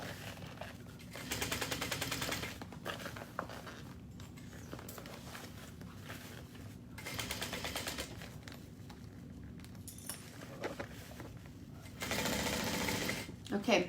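A sewing machine stitches a seam at a half-inch allowance for a pocket, running in three distinct bursts of rapid, even whirring with pauses in between, fairly faint and close, under a voice talking quietly.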